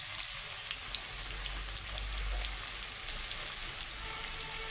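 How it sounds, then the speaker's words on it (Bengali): Potatoes seasoned with salt and turmeric fry in hot oil, giving a dense, constant close-up sizzle with no voices. "আমি আলুগুলো একদম লাল লাল করে ভেজে তুলে নেবো"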